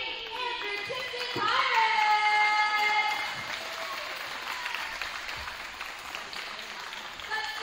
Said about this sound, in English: Give a big round of applause to the Saint Andrew Tipton